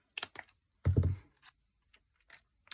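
Scissors snip through card stock while a snowflake Christmas card is being made: a short, crisp cut amid a few light clicks and taps, close and fairly quiet.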